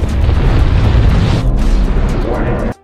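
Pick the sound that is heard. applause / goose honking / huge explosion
huge explosion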